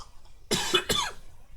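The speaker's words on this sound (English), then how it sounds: "Sorry, I seem to have picked up another cough." A single person gives two sharp, close coughs in quick succession, loud against an otherwise quiet indoor background.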